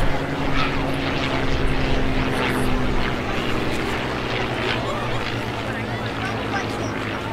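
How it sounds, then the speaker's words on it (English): Piston-engine World War II warbirds, a P-51 Mustang and a P-40 Warhawk, fly past at a beach airshow, their steady propeller drone loud and continuous, with crowd and announcer voices mixed in underneath. "Mustang, followed by the P-40 Warhawk."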